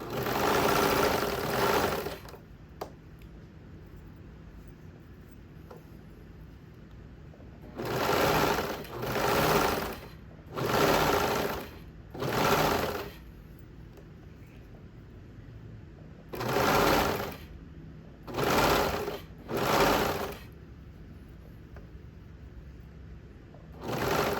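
A serger sews elastic onto a swimsuit in a series of separate bursts, one long run, then about seven short runs of a second or so each, close and loud with quiet pauses between and no talk.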